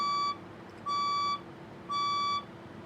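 A building fire alarm sounds three evenly spaced, sharp electronic beeps, each about half a second long, with a faint background hum between them.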